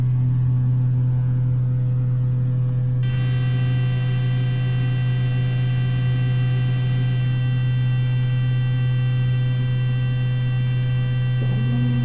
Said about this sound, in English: That noise is because I hit the flaps and the gear aren't down yet.